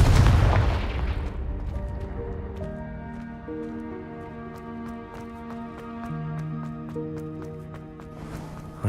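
A Confringo spell explodes in Hogwarts Legacy with a loud boom at the start that decays into a long ringing musical tail of sustained tones and sparkling chimes.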